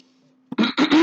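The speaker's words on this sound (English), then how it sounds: "the coughing you hear in the background is family," A few quick, harsh coughs burst out close by after a faint hum, with no talking.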